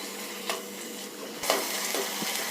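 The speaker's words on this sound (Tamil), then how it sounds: "தக்காளி நல்லா மேஷ் ஆகிற வரைக்கும் வதக்கிக்கலாம்" Tomatoes sauté in a pan until they mash down, giving a continuous close sizzle with a few soft scraping strokes of a spatula scattered through it.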